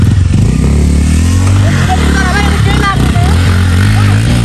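A motorcycle being ridden produces a loud, close engine drone that holds steady throughout, with voices talking over it.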